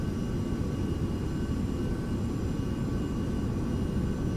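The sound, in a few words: Carenado 390 Premier IA aircraft in a flight simulator video game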